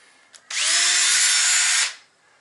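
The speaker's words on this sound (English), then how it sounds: "This cordless drill operates at about, what, 250 RPM" A cordless drill running at about 250 RPM whirs up after a brief click, runs at a steady high whine for about a second and a half, then spins down.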